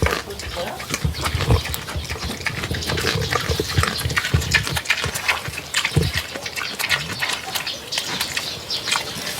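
Pigs grunting and snorting close by, a dense busy mix of snuffles and squeals with wet sloshing and a voice talking over it.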